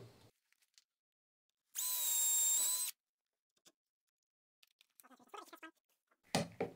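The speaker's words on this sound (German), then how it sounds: "Mache auch nochmal eine zweite Bohrung mit einem größeren Bohrer." A power drill with a larger bit bores a second hole in wood: one short, loud whining burst of about a second, followed by near silence with a few faint taps and rustles.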